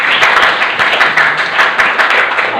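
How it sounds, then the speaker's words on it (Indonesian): A classroom of students claps together at the end of a lesson, a fairly loud, steady burst of many hands with slight rhythmic pulsing and no voices. "Ya, tepuk tangan buat kita semua."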